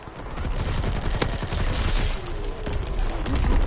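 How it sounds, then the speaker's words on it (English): Incoming artillery fire in a PS4 shooter game, a dense barrage of gunfire and booms with one sharp crack near the middle, rolling on continuously and loud throughout. "Incoming enemy artillery."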